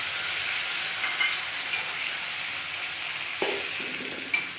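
Ground tomatoes and vegetables fry for pasta in a constant, moderately quiet hiss, with a few sharp scrapes of a utensil against the pan near the end; no speech.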